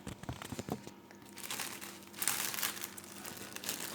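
A plastic freezer bag holding dried nuts crinkles and rustles nearby in repeated bursts, louder toward the end, with no talking.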